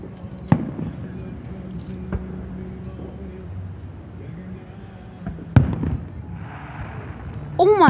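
Fireworks burst outdoors in a few sharp, booming explosions spread over several seconds, one far louder than the rest, with background crowd murmur and voices between the blasts.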